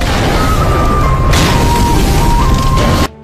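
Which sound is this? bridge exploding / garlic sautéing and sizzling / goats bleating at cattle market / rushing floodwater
bridge exploding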